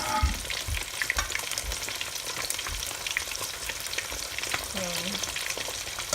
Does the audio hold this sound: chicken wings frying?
yes